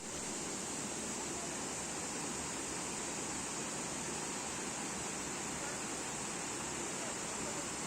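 Water runs among rocks in a forest stream in Kerry, Ireland, a steady broadband rush that is dense, continuous and unvarying, with no pauses or talk.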